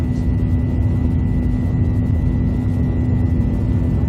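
Steady loud roar of a Boeing 737 on its takeoff roll in the X-Plane flight simulator game, a constant engine drone with a tonal hum, continuous and close throughout.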